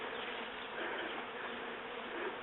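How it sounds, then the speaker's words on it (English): Honey bees swarming out of a top bar hive fill the air with a dense, continuous buzzing hum, steady and moderately loud all around, with no voices. "It's like our bees have decided to swarm today."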